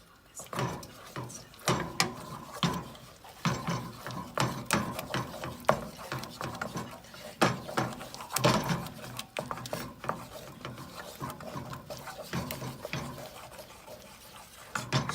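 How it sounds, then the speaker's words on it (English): Buffalo chicken dip is stirred in a pot until it melts, giving irregular scraping and knocking strokes of a utensil, quiet and close, with some talking in between. "So you're just gonna keep mixing it until all of it is done."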